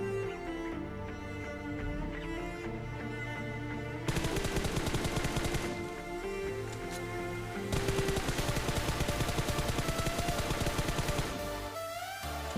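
Rapid bursts of automatic gunfire in the mobile battle-royale game PUBG Mobile, played solo around Georgopol, rattle loudly in two long sustained volleys over a steady game soundtrack, with no talking.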